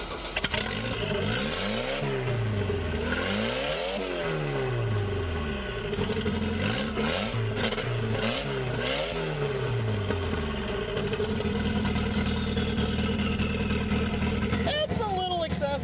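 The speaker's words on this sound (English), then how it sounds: "Let's see what it sounds like without an exhaust." A turbocharged project car engine with no exhaust fitted revs hard and close in repeated sharp rises and falls, then settles into a loud, raw, steady roar.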